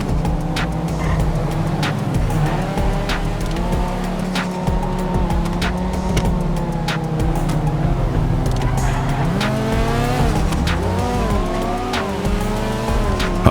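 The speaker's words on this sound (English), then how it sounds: "High-speed cornering isn't exactly our strong suit." A car in GTA Online cornering at high speed, its engine revving and shifting pitch while tires squeal in repeated sharp bursts, loud and continuous.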